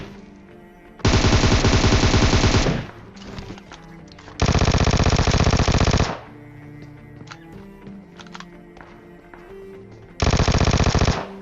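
Automatic gunfire in the video game PUBG Mobile comes in three loud, rapid bursts, each lasting one to two seconds, separated by quieter in-game ambience and scattered single clicks.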